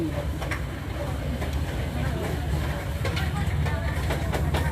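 A train passes under an expressway, a continuous loud rumble with rattling, clattering transients, and muffled voices underneath.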